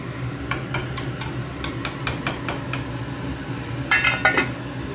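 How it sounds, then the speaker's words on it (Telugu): A metal spoon repeatedly scrapes and clinks against a pot while cooked rice is being mixed, producing a quick series of close, sharp taps in irregular bursts with a denser cluster near the end. "అన్నం విరగకుండా కలుపుకోవాలి."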